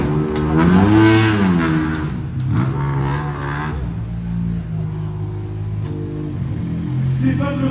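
A rally car sets off, its engine revving hard and climbing in pitch before easing into a steady drone, heard fairly close with voices talking nearby.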